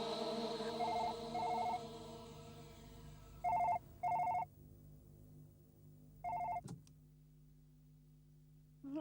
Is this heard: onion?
no